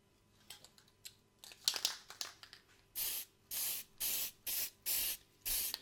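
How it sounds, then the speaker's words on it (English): A few crinkling, rustling handling sounds, then a series of short, loud spray-can bursts of sealant coating over a shield, each lasting about half a second, evenly spaced. "So I'm going to lay down a coat around the edge first and then do a whole surface spray."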